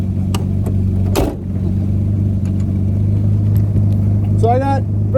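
An Austin Healey 3000 with weak brakes that keeps jumping out of first gear drives along, its engine a loud, steady low drone throughout, with a brief louder burst early on and voices talking near the end.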